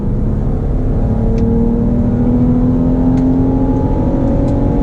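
A Jeep Cherokee Trailhawk accelerates, heard from inside the cabin as a loud, steady engine drone with a gradually rising pitch, broken by a few faint clicks and ticks and no talking.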